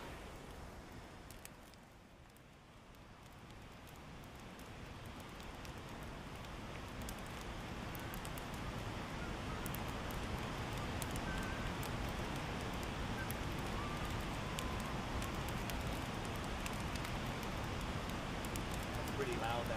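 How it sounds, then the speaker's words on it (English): Steady roar of a waterfall near a backcountry campsite on the Brazeau Loop in Jasper after rain, a dense broadband rush like a big river, continuous and slowly swelling louder across the span with no voices. "Pretty loud, that waterfall."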